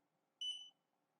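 A LaserPecker LP5 dual laser engraver gives a single short, clear electronic beep when it connects, heard alone against near silence.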